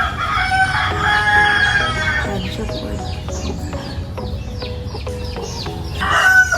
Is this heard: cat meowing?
no